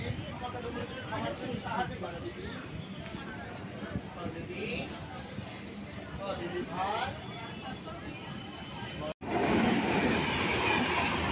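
The Shantiniketan Express 12338 passes close alongside a moving local train, with rhythmic clickety-clack of wheels over rail joints and a loud rushing roar, ending in a sudden louder burst as the cars go by; a voice talks over it.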